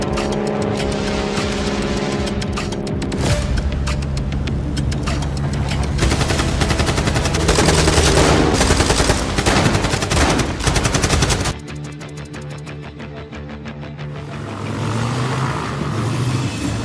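A big gun fires in sustained, dense rattling bursts layered with heavy rumbling noise. The firing is loud and close, and it drops abruptly to a lower, murkier roar partway through.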